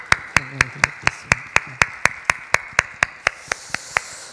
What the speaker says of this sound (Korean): 박수로 하나님 앞에 드리겠습니다